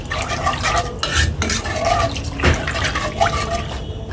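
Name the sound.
stirring a milk mixture with raisins in a pot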